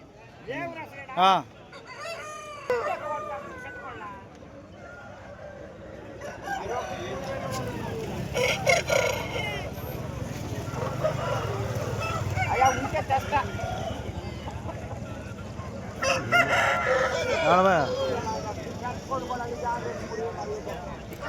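Rooster crowing at a busy chicken market, with a couple of crows rising above steady crowd chatter and people talking nearby throughout.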